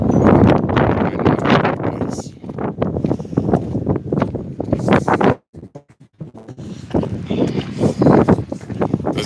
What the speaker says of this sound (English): Does the wind sound horrible on here?